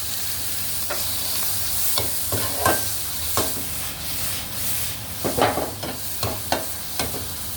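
Onion, garlic and fresh chili stir-fried in a wok, a close sizzle broken by rhythmic scraping strokes of the spatula that grow busier toward the end, no one talking.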